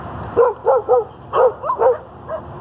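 Dogs bark in a quick series of about seven short, yappy barks in small clusters, at moderate distance over a steady background hum, with no one talking over them.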